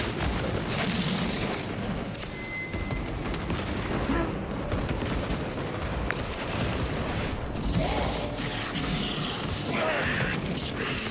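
Gunfire rattles without pause in the Space Marine 2 video game, heavy sustained bursts and booming impacts layered into a dense, loud battle din with mechanical clanks throughout.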